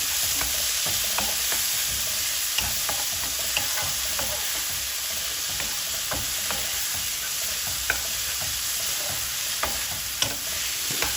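Chopped vegetables for aloo matar sizzle loudly and continuously in a pan, with scattered clicks and scrapes from stirring throughout; close and busy, with no talking.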